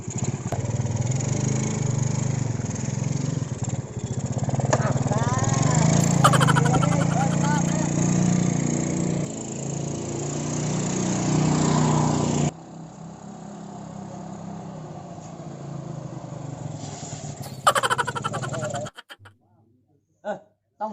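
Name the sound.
old motorcycle engine running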